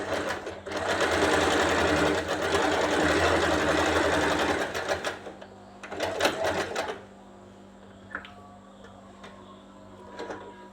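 Sewing machine stitching embroidery along a marked line on a nightie neckline, a loud steady whirring run for about five seconds, then a short burst and quieter mechanical clicks afterward.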